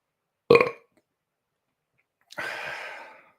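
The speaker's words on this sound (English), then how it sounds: "You like my burps so much." Two burps close to the microphone: a short sharp gulp first, then after a pause a longer, rougher, drawn-out belch, with silence around them.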